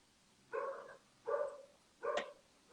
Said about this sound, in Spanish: El perro sale, ¿no?